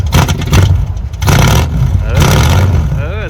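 Engine of a damaged truck on a farm revving loudly, a rough low roar rising and falling in a couple of surges with rattles and clatter, heavy and close, with voices over it.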